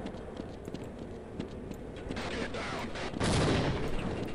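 In Half-Life, rapid gunfire crackles and a grenade blast booms near the end, a dense, quiet stream of shots building into a louder explosion.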